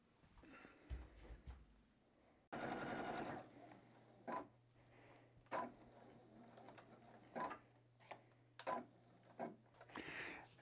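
Sewing machine stitching straight lines around the borders of a small heart quilt, with a long steady whirring run followed by a series of short separate bursts of stitching over a low hum.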